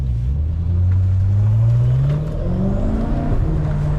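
Inside a tuned 700 whp BMW M6 with a twin-turbo V8, a deep engine drone rises and falls under acceleration, steady and close throughout the cabin with a faint whistly whir above it.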